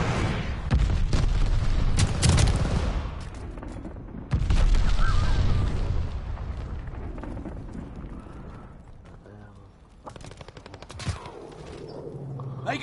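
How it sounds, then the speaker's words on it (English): Enemy glide bomb in the shooter game Call of Duty: Vanguard blasts in heavy booming explosions amid rapid gunfire, loud and dense at first, then easing into scattered shots and rumbling. "Enemy glide bomb coming in hot."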